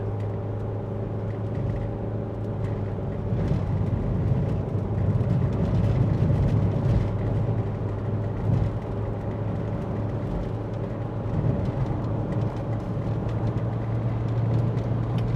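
Mk4 Jetta with a Tiptronic automatic transmission at half throttle climbing a hill under load, a steady low engine drone with road and cabin rumble heard from inside the car.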